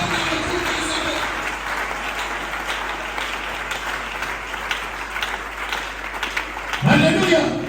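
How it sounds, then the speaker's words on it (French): A church congregation applauds for the glory of God, sustained loud clapping from many hands filling the room, swelling louder toward the end as voices join in. "Acclamez pour la gloire de Dieu."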